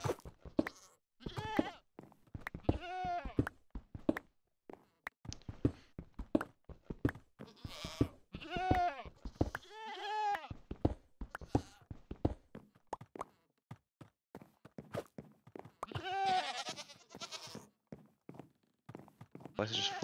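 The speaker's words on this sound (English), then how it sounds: "Place is just full of fucking goats." Goats in the Minecraft video game bleat repeatedly in short, wavering calls, several spread across the stretch with gaps between, alongside light thunks and footstep-like clicks.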